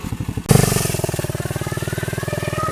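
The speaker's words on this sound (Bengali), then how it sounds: "বাইক রানিং আছে।" A motorcycle engine catches and runs in second gear while riding, a close, loud, steady rhythmic chugging pulse that starts abruptly after a quieter moment.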